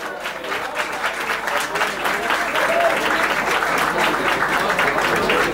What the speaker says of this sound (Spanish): aplausos para la señorita Raisa In Love